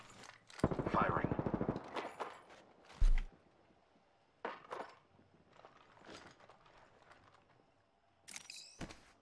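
Gunfire in the shooter Apex Legends: a loud burst of rapid automatic fire up front, a sharp single crack, then scattered shorter shots and bursts further off, with a player talking in between.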